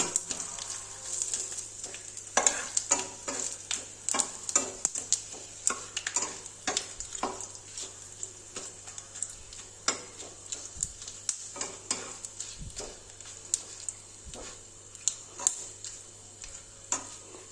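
Dried red chillies, a bay leaf and whole garam masala fry in hot oil with cumin, a soft background sizzle broken by many sharp ticks and clinks of a spoon against the pan.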